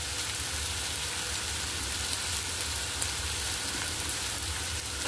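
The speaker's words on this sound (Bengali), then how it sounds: "এটাকেও দিয়ে আমি ভালো করে ভেজে নেব" Chopped onion, ginger and garlic frying in a pan make a dense, steady sizzle like light rain, close and continuous, with faint stirring scrapes and no talking.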